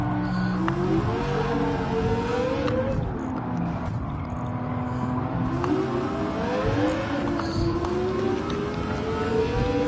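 Race cars on a straight in Gran Turismo 7 drone constantly, engine pitch climbing and dipping as they accelerate and shift, with other cars blending into a dense, continuous roar.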